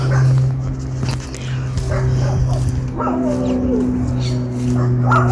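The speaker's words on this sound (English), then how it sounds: "Puppy's not happy. Oh well, he can come chase me out, I don't mind, I like dogs." A small dog behind a gate in a cemetery setting yips, barks and whimpers, moderately close, in scattered bursts over a steady background hum, with a person talking at times.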